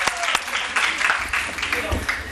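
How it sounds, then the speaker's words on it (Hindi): A studio audience on a Ramadan iftar TV show claps briefly after a shooting game, short uneven bursts of applause mixed with a host's voice. "एक बार फिर तालियां"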